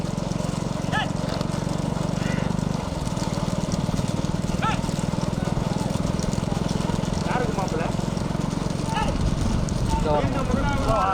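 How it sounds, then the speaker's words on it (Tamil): Hoofbeats clatter at a rural race event in Tamil Nadu, partly buried under a loud, continuous announcer's voice and a steady engine-like drone. "குதிரை பந்தயம் இருக்கு"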